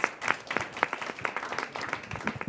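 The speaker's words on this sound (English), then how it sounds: "Let's give a round of applause to Kate as the leader and that team for those really thoughtful questions." A seated audience at a Seattle city candidate forum gives brief applause, with a steady patter of many individual claps at moderate volume, heard from a little distance.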